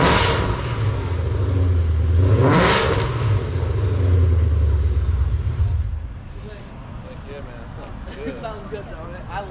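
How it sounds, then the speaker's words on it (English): A car with a valved exhaust, LTH 1 7/8 long tube headers and high-flow cats revs up once to a loud, rising roar, then drops back to a rumbling idle, close by, with voices talking alongside. "he wants to check out the valved exhaust that I have in the car"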